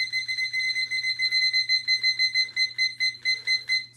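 A digital timer alarm beeping in rapid, evenly pulsed bursts, high-pitched and clear over a faint low hum, continuing steadily with no one speaking.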